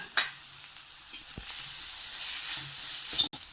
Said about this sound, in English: now add finely sliced onion and saute it well